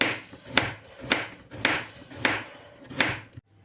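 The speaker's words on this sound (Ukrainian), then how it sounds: "Просто наріжу її півкільцем." Six crisp, evenly spaced knife strokes cut a carrot into half-rings on a chopping board, each a sharp tap of the blade against the board, close and alone.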